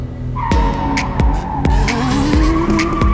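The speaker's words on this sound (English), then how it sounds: "the tires screaming, and the car whips sideways into a gorgeous, controlled drift." A drift car's tires squeal loudly and continuously as it slides sideways on a track, a sustained rising screech punctuated by sharp rhythmic knocks and bursts of engine noise, close and intense.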